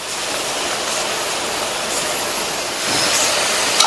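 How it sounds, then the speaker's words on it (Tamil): Pieces of snake gourd deep-fry in hot oil with a dense, steady, close crackling hiss that grows slightly louder toward the end, with no talking. "புடலங்காய் நல்லா ஃப்ரை ஆயிடுச்சு பாருங்க. இந்த மாதிரி சத்தம் கேட்கணும்."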